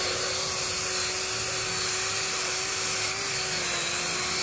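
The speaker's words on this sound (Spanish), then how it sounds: "esto del taladro es muy útil porque pues trabaja más revoluciones que lo que tú le puedes hacer con la mano" A power drill fitted with a scrubbing brush works the carpet inside a Ford Ranger, a steady high whirring hum running continuously at an even pitch with no talk.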